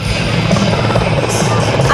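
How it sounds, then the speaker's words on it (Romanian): An IAR 330M Puma, the Romanian licence-built version of the French Puma medium transport helicopter, thunders at an airshow over Bucharest, a loud, steady rotor and turbine roar that fills the whole stretch with no voices. "The IAR 330 is a Romanian licence-built version of the French Puma medium transport helicopter."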